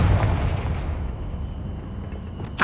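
A Confringo fire spell in the wizarding game Hogwarts Legacy, a deep booming blast that fades into a low rumbling tail, followed by a sharp crack right at the end.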